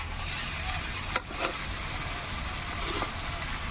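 Vegetables for a vegetarian fried rice sizzle and hiss steadily in a frying pan as they are mixed, with a couple of brief utensil knocks against the pan.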